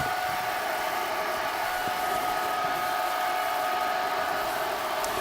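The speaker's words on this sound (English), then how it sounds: "first weld, here we go" A Harbor Freight Titanium Unlimited 200 welder laying a first weld makes a steady, loud, continuous buzzing hiss that holds unbroken throughout.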